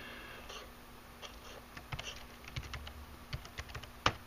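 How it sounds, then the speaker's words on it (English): Fingers type on a computer keyboard in a quiet room, giving a quick irregular run of soft clicks and ending in one louder keystroke. "let me type the name here"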